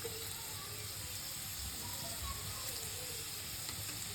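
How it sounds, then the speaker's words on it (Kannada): Ingredients for fried rice frying in a pan, a steady broadband sizzle with a faint watery hiss throughout, close and continuous at low volume with no talk. "ಇದನ್ನೀಗ ಚಲೋ ಫ್ರೈ ಮಾಡ್ಕೊಳ್ಳೋಣ."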